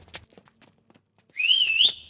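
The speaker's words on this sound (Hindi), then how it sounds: "तुझे सीटी बजाने आती है क्या?" A single person whistles a short rising, wavering note for about half a second, loud and alone, following a stretch of quiet shuffling and faint background sounds.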